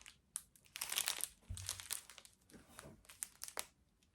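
Regular plastic baggies, not zip-top, crinkle and crunch in bursts close to the mic, with quiet gaps between handlings.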